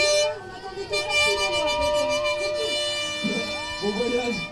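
Rally cars at a departure in La Rochelle, including a Renault 5, sounding non-original horns in long sustained toots and wavering musical blasts, loud and close under engine rumble and people talking.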